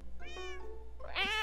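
A person imitates a cat with drawn-out, tonal meows, one around the middle and a louder, higher one near the end, close and alone without other talk.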